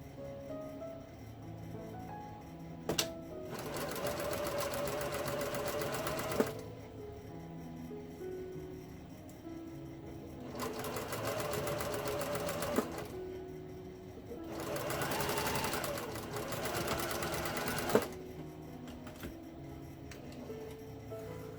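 A sewing machine stitches the seams of a face mask in three long runs of steady, fast mechanical whirring, separated by quiet pauses with occasional clicks, close and fairly faint.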